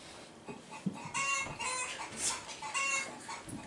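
A hen clucking sound effect in an elementary school play: rapid, agitated clucks and squawks, close and loud, with brief pauses between bursts.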